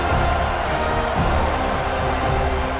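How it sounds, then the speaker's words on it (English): A dense, loud home crowd roars continuously in a packed stadium at a Florida State college football game against Oregon, a steady wall of surround noise with no clear breaks. "A cacophony of noise, debilitating surround sound, the war chant on 3rd down at the Doak"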